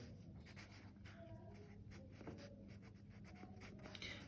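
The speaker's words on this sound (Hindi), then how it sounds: "तो रिवाइज कैश बुक में हम लिखेंगे यहां पर" Pen writing entries in a cash book during a bank reconciliation accounting lesson, heard as soft, continuous scratchy strokes up close, with no talk.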